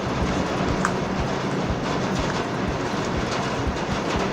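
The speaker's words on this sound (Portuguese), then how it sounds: "mas está chovendo, desculpa pelo barulho," Heavy rain outside a home where someone is crocheting, a dense steady hiss with a scattering of taps and patters, continuous and fairly loud, no voices over it.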